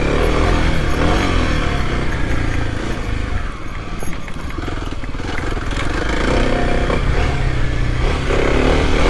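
A Kawasaki KLX 300 dirt bike rides a rough technical trail and climbs out of a rut, its engine close and loud throughout with revving and a brief labored dip, plus some clatter and scraping.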